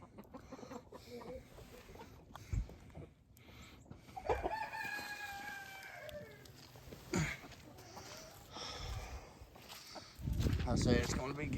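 Chickens cluck and a rooster crows nearby, with people talking over the birds and a burst of louder noise toward the end.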